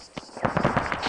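A grenade goes off in ArmA 3, heard as a short, muffled crump followed by a rough, crackling rumble that lingers for under a second, fairly close and with no talk over it.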